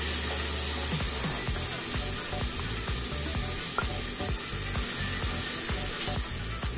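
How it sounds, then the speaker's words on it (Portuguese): Onion and tomato sizzle steadily in a pan, with a constant close frying hiss and soft clinks of stirring throughout and no talk. "Refogou a cebola, acrescente o tomate."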